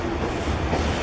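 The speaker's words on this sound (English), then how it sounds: "I'll just let the train pass" A train rolls past in Roanoke with a steady, loud rumble and rhythmic clatter of wheels on rails, heard close and continuous without any talking.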